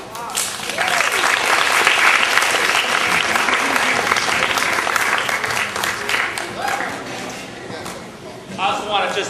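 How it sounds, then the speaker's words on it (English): An audience at a school dramatic arts festival applauds the first public performance of The Little Mermaid with loud, sustained clapping and scattered voices and cheers throughout. "give them a round of applause"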